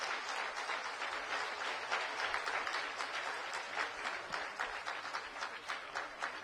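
A large audience applauding at a school event with education officials in Delhi, a dense, steady wash of many hands clapping from a distance that holds evenly throughout, with no speech over it.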